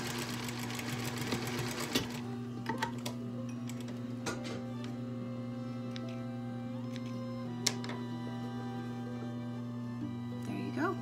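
Sewing machine stitching a decorative seam along the top and bottom of a pleated blue fabric face mask, a steady close motor hum with faint ticking under it, running alone without talk.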